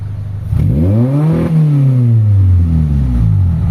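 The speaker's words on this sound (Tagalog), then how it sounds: "Tapos subukan natin i-rev." A Honda Civic ESi engine being revved after a low-power and rough-idle fault, climbing from idle into a loud close rev, dipping briefly, then rising and falling again.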